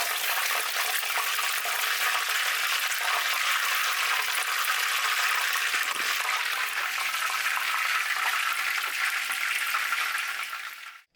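Basil leaves fry in plenty of hot oil, a loud, continuous roaring sizzle that holds steady for several seconds and then cuts off abruptly at the end.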